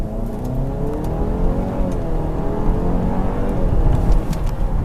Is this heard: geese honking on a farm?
no